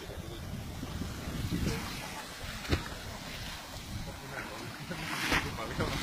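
Sea water from a tidal surge floods the shore at Varseline, a rushing wash of surf mixed with gusty wind buffeting the microphone, while voices murmur faintly now and then.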